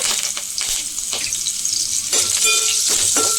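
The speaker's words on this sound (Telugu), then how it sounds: "వెల్లుల్లిపాయలు కొంచెం మగ్గాలండి. మగ్గితేనే బాగుంటుంది." Garlic cloves and curry leaves sautéing in oil in a pan for a drumstick-leaf sesame curry, a steady close sizzle with intermittent stirring scrapes and light clinks throughout.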